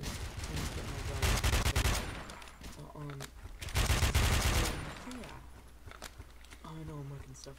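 AK rifle fire in a video game, with two long bursts of rapid automatic shots standing out over background game sounds. A voice talks over the quieter stretches between the bursts.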